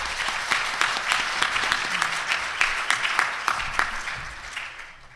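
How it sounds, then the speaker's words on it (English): An audience of counseling center professionals at an opening session claps loudly with dense, sustained applause, which tapers off toward the end. "So give yourself a round of applause."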